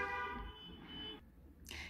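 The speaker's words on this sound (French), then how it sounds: "Il y a un concert de klaxon, là, c'était pas, ils n'étaient pas contents." Car horns honking in protest out on a street, a short burst of horn tones opening the moment before fading, followed by traffic noise and a brief hiss.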